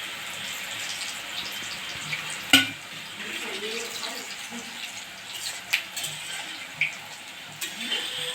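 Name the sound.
khara biscuits frying in oil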